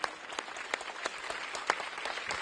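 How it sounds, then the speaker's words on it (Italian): An audience at an evening event in Venice claps steadily with moderate volume, a dense patter of hands with a few sharper individual claps standing out, heard from some distance. "Un applauso."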